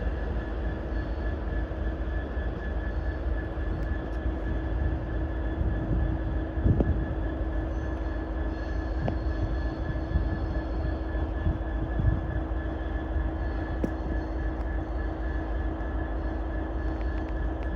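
A passenger train pulls out of Crewe station on the West Coast Main Line, bound for London Euston, giving a steady low rumble and drone with faint rail noise at moderate distance, with no talking.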